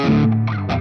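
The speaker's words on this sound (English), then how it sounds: "Let's have a listen to that reverb now." A short Gibson SG electric guitar chord, played through a Valeton GP-5 set for a JCM 800 tone, rings out with a wash of reverb, sustained and slightly distorted, close and clear.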